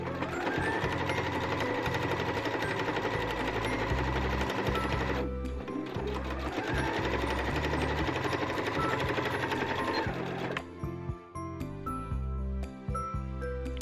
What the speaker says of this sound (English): We're going to pin and sew a straight line along the top